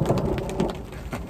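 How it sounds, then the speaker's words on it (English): Steady rain patters on a tarp and surfaces at a forest campsite during a thunderstorm, with soft rumbling underneath; a dense, continuous wash of drops with a few louder splashes, no voices. "Lightning right overhead, thunder, and then it just started to rain."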